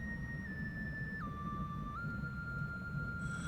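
In the underwater game Endless Ocean: Blue World, a flute plays a short, pure melody of a few held notes that step between pitches, sounding alone over a steady low ambient background.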